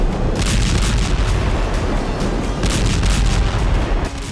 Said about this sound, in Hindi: एक के बाद एक 4 धमाके हुए और फ्रंट लाइन पर हथियार सप्लाई करने वाला रूस का गोदाम तबाह हो गया।